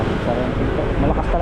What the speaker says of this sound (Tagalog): Malakas talaga yung hangin.